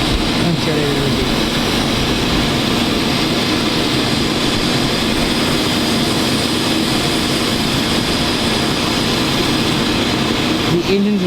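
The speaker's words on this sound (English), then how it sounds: "The engines are still running. That can be weird." Jet engines of a CRJ regional jet idle steadily at the airport gate, a loud continuous roar and whine holding for the whole stretch, with voices faintly mixed in beneath.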